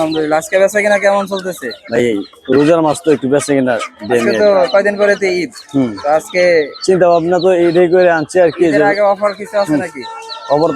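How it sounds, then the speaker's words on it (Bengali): A large rooster clucks at the Hemayetpur duck and chicken market, its calls mixed in and partly masked by steady close talking between people throughout. "এই শুরুতে আমরা একটা মোরগ দেখতে পাচ্ছি বিশাল সাইজের"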